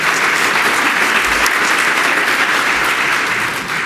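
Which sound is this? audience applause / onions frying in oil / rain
audience applause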